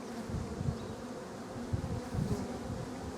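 Honey bees buzz softly around a queen inside the hive, a continuous faint hum with small swells in loudness.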